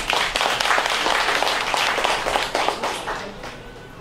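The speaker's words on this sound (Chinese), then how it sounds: "我们是不是先给台上的这三位一个热烈的掌声？" A panel-discussion audience in Taipei gives a warm round of applause for three people on stage: dense, steady clapping from many hands that holds for a few seconds and then tapers off.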